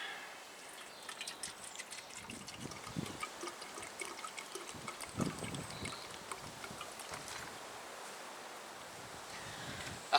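Water trickles and splashes into a Kelly Kettle in an uneven stream, with soft bursts of pouring against a steady hiss, fairly close by.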